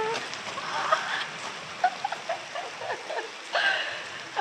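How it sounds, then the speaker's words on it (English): Rain falls during a thunderstorm at a construction site, a steady patter with scattered louder drips and splashes against a soft background hiss. "It's finally raining."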